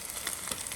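Pumpkin cake frying in a pan just after being flipped, a close, steady sizzle with faint crackles over a low fire, no talk.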